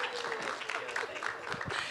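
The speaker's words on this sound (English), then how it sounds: "I deserve another round of applause." Audience applause at a prostate cancer panel event, a steady wash of clapping from a crowd filling the whole stretch, with faint voices underneath.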